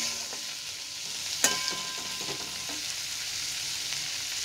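Chilli soybean ingredients with tomatoes being lightly fried in a pan, a soft continuous sizzle with one sharp clink of a spoon and a few quiet stirring scrapes, close but low in level.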